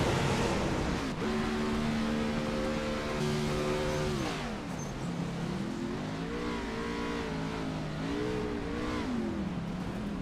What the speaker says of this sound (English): Stuck in gear. The car's stuck in gear.